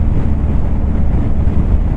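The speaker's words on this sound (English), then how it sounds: "gusty and windy right now because it storms in the area" Gusty wind buffets the microphone while riding a BMW R 1250 GS motorcycle in stormy weather, a loud, continuous low rumble that fills the whole stretch without letup.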